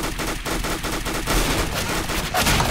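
Rapid bursts of gunfire in the tactical shooter CS:GO, with loud, close, rhythmic shots repeating steadily throughout with hardly any pause, and no speech.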